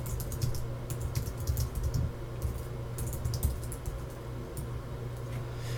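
A note is typed on a computer keyboard in a quick, steady patter of close key clicks over a low background hum, with no speech.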